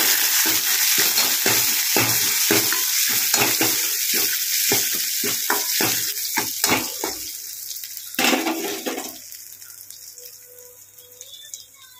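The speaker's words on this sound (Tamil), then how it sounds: "இது போட்ட கடுகு எல்லாம் நல்லா பொரிஞ்சு வந்துருச்சு" Mustard seeds splutter in hot oil for a drumstick-leaf soup tempering, with dense crackling pops close by over a loud hiss that thin out and quiet down toward the end.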